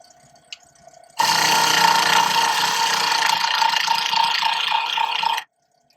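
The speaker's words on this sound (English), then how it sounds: "I'm turning at about 1200 revolutions per minute. I'm using a 1/2 inch spindle gouge" A wood lathe turns mango wood at about 1200 rpm while a 1/2 inch spindle gouge cuts it toward round, giving a loud, steady scraping and rattling cut that starts abruptly and stops after about four seconds.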